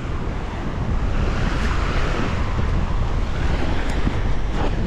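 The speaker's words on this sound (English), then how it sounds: "Look at the waves, guys." Strong wind and crashing surf on a Yasawa island coast in Fiji ahead of Cyclone Mal, a continuous loud roar of waves and gusts with no voices.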